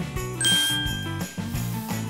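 A small bell jingles inside a shaken Littlest Pet Shop toy package, producing brief bright tinkles and a ringing tone amid rustling and knocking handling noises, close up.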